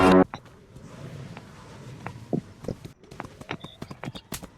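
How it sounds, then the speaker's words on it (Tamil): A horse in the Free Fire video game trots and gallops, with irregular hoof clip-clops that come in quick, uneven bursts at moderate level, opening with a short loud burst. "அட குதிரை இப்படி போடா குதிரை."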